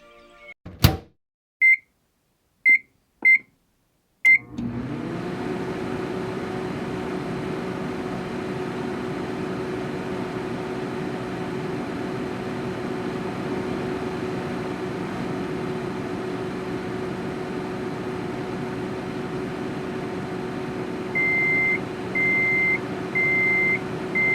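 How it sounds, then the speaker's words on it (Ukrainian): Four quick beeps, then a steady low mechanical hum of a running microwave oven, followed by a series of short beeps near the end. "Послухайте, як звучить мікрохвильова піч."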